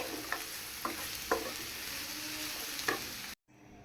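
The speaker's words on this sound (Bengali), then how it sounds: "আর এই যে আমার ভাজিটাও অনেকটা হয়ে গেছে আর একটু ভাজা ভাজা হবে" Vegetable bhaji fries in a pan with a soft, continuous sizzle and a few sharp stirring scrapes, then cuts off abruptly near the end, with no voices.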